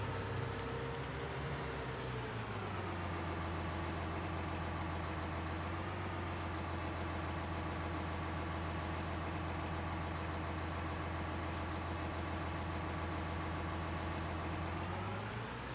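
A tractor engine idles steadily nearby, a constant low diesel-like drone with a deep hum that holds unchanged throughout, with no talking over it.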